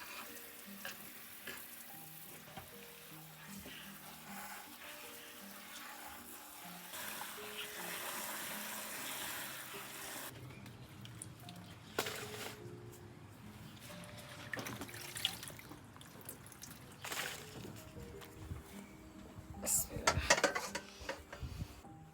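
Chopped taro leaves are washed under running water, giving a soft rushing hiss. Pots clatter and knock louder toward the end, with faint background noise throughout.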